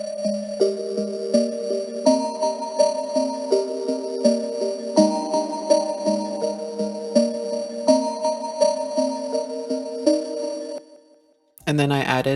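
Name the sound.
synth melody, Serum preset with Gross Beat halftime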